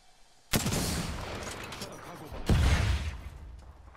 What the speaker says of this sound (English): They're still fighting, but they're fighting with like pistols and things, I think